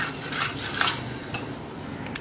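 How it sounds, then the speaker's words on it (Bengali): Dishes are washed in a kitchen sink, with soft running water and a few light clinks of pots and utensils against one another, close and quiet. "একটু কিছু বাসন ছিল অ্যাকচুয়ালি সিঙ্কে, সেগুলোকে ধুয়ে পরিষ্কার করে দিলাম।"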